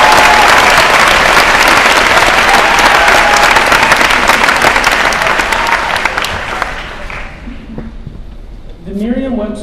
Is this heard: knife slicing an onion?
no